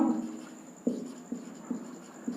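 Pen strokes on paper come close and quiet while a maths solution is written out, with about five separate scratchy bursts spaced in a loose rhythm.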